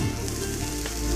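Grated onion hits hot oil in a pan with a loud, steady sizzle and frying hiss that carries through the whole short moment, close up, with no voices.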